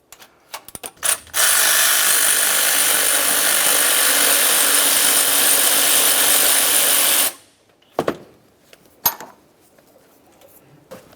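A sustained mechanical whir runs steadily for about six seconds, bracketed by brief clicks and clanks of a ratchet removing 13mm thermostat housing bolts on a 1994-2002 Dodge Ram 2500 engine.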